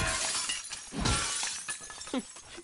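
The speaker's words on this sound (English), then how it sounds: "Break all that glass." Glass shattering in the video game The Last of Us Part II: a loud, sharp crash that breaks into a spray of tinkling shards, followed by several smaller breaks and scattered debris over a few seconds.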